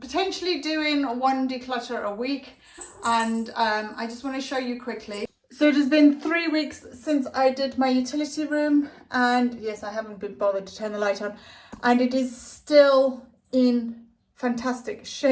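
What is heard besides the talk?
None of the usual background noises is heard.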